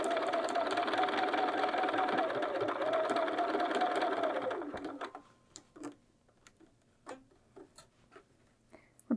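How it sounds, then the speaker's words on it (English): A sewing machine stitches through both layers of a bag handle with a loud, steady whir for about five seconds, then stops, leaving scattered clicks and handling sounds. "We're sewing through both layers of the handle now."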